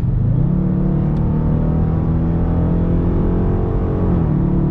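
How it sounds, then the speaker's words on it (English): A 2017 Dodge Charger RT engine revs loud and close in a steady, rising drone that holds throughout, then eases slightly near the end, with no voices. "Oh, I love that engine noise."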